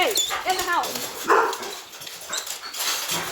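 Several pet dogs at a house barking and whimpering, with short yips and whines at close range mixed with a person's voice calling to them.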